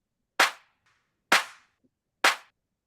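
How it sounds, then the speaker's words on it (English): Three sharp snare-clap drum hits from a beat sample, evenly spaced about a second apart, each a bright, crisp burst with a short decaying tail against near silence. "I have an accentuation of it with like a snare clap."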